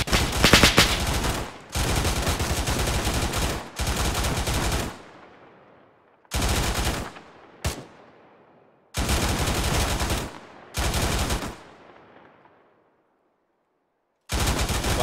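Rifle rounds fired in a video game, loud bursts of rapid automatic fire, about seven separate volleys broken by short silences, some trailing off in echoing decay, with no talk.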